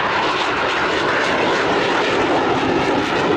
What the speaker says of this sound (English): I'm going to go quiet so you can hear the aircraft